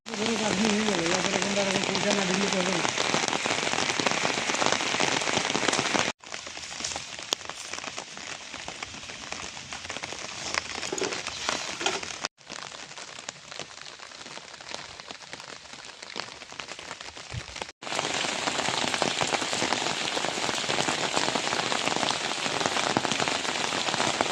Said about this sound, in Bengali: সারা জেলা জুড়ে বিক্ষিপ্তভাবে বজ্রবিদ্যুৎ সহকারে বৃষ্টি শুরু হয়েছে।